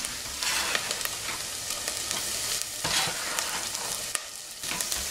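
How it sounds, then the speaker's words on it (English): Onions sauté in a pan for an elephant foot yam curry, giving a steady close sizzle and crackle, with occasional scrapes and stirring sounds and no talk. "my onions have sauteed a little bit"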